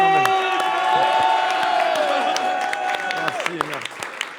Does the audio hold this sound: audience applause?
yes